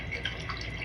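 A Sony AI robot dog emits a short burbling, gargling water-like sound, a near, bubbly series of liquid drips lasting under a second with no speech.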